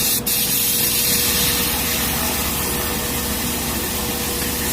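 A Harder & Steenbeck Infinity CR+ airbrush with a 0.4 mm tip sprays thinned green lacquer paint at about 25 PSI, producing a continuous, close airy hiss with no pauses.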